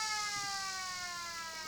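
A long, steady electronic siren sounds loud and unbroken across a country Australian football ground, marking the end of the third quarter in a Riverina AFL match between the Lions and the Tigers.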